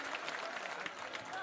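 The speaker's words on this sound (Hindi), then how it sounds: "एक बार जोरदार ताली इनके लिए बजाइए, श्री आनंद मिश्रा जी के लिए" Crowd at a Bihar political rally claps loudly for Shri Anand Mishra, a dense continuous burst of applause heard from a distance with crowd noise mixed in.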